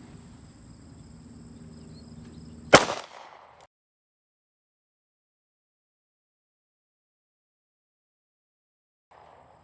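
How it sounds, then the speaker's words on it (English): A single sharp, close gunshot from a .45 ACP 230 grain full metal jacket round fired at a British Mk7 Kevlar helmet cracks over a faint insect-like hum, followed by near silence. "So this is going to be the 45 ACP, 230 grain full metal jacket"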